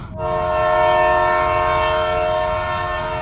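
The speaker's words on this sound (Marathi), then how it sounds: "तोच दुरून रेल्वेचा भोंगा वाजला" A train horn sounds near a railway crossing in one long, loud, steady blast with a rumbling rail undertone, with no talk.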